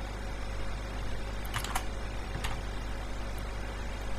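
Typing on a computer keyboard, a few quick, light key clicks in short clusters over a steady low hum of background noise.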